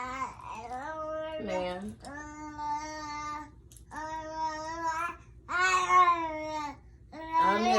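A young child babbling and yelling in drawn-out, tuneful vocal bursts with short pauses between them, close and fairly loud, with an adult speaking briefly.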